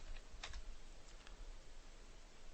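A few quiet bursts of keystrokes tap on a computer keyboard in a still room, two short clusters of clicks with near-silence between them.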